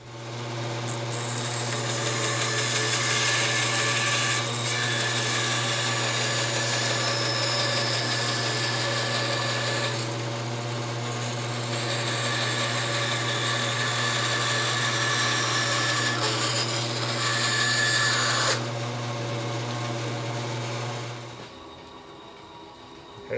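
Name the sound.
cutting wooden boat frame square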